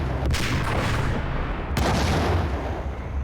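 Grenade blasts in the Max Payne shooter game, two heavy booms about a second and a half apart over a dense rumbling wash of gunfire-like noise, loud and continuous with no voices.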